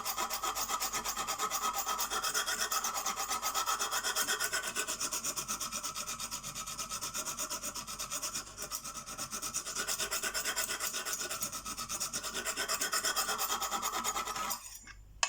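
A CK Viper knife blade is drawn over a Lansky sharpener stone in steady, rapid rasping strokes, close and continuous with a brief pause midway and no talking.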